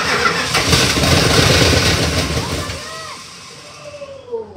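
A 1962 Chrysler engine roars loudly as it cranks and revs, then drops away, leaving a quieter stretch with faint voices and a few clunks.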